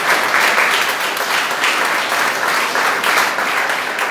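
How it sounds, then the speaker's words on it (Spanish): A congregation at a Sunday church service breaks into loud, sustained applause, a thick, even roar of many hands clapping close by, with no voices standing out. "¿Se atreve a aplaudir por eso en el nombre de Jesús?"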